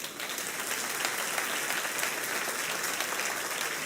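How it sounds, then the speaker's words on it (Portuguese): A church congregation breaks into sustained, dense applause during a sermon, the clapping steady and loud across the whole stretch with no speech over it. "Você pode aplaudir ele."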